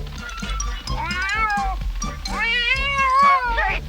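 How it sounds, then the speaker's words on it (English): A cartoon cat lets out long, wavering, drawn-out meows and caterwauls, loud and close, over a rhythmic low musical background. "But where can we hide from a cat?"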